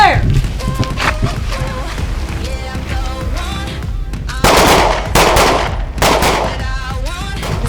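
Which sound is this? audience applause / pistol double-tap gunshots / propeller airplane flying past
pistol double-tap gunshots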